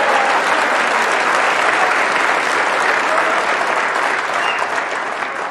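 A crowd at a snooker final in Bolton claps loudly and steadily, a dense sustained roar of applause that fades slightly toward the end.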